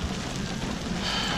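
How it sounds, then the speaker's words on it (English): Steady rain patters on a sailboat anchored off the Bahamas about 11 miles north of Staniel Cay, with wind blowing in the 20s; a continuous even hiss with a low rumble beneath it, close and constant, with no voices. "And today's raining"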